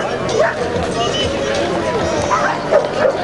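Dogs bark and yip at a dog show, with a few short barks in the mix and a steady crowd and talk behind them.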